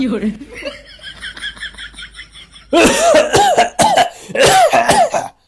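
Someone speaks briefly, then a string of five or six loud, harsh coughs comes in quick, uneven bursts close to the listener.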